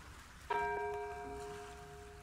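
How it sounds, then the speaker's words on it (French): A meditation bell is struck once and rings with a clear, bright tone that sustains and slowly fades, set against a quiet background. "Chaque fois que vous entendrez le son de cette cloche,"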